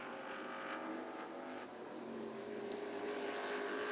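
Sportsman stock cars race on an oval track, their engines forming a faint, distant, continuous drone with slight rises as cars come by.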